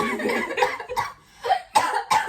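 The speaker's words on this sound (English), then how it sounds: "She having a coughing fit." A string of harsh, raspy coughs comes in rapid bursts with brief gaps between them, loud and close, with no talking.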